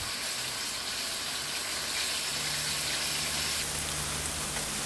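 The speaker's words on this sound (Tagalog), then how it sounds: "i-fry natin yung chicken natin para mag-golden brown" Chicken pieces fry in a pan, giving off a dense, steady, close sizzle that never stops and carries no talk.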